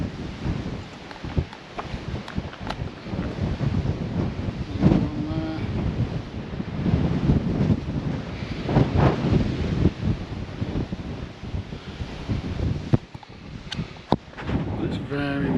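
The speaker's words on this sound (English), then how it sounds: "It's very windy" Strong coastal wind buffets the microphone on a clifftop path in autumn, loud irregular gusts and rumbling blasts continuing throughout with brief lulls.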